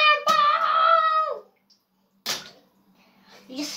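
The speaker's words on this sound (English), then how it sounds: "You just splashed all of us." A cannonball jump into a pool at a birthday pool party: a drawn-out shouting voice, a pause, then a sudden sharp splash followed by fainter water spatter and voices.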